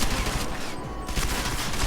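Rapid bursts of gunfire in the video game Deus Ex, loud and dense, a near-continuous fusillade with a short dip in the middle and no talk.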